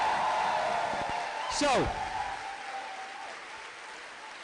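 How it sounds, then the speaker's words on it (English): Steady crowd applause fills the space at a political campaign rally, with a brief voice cutting in near the start and a sharp whooping sound rising over the clapping. "massive, massive round of applause from there"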